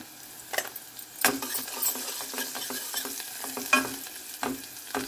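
Onions browning with turmeric in a pan crackle steadily while a utensil scrapes and clinks against the metal in several sharp stirring strokes, close and fairly loud.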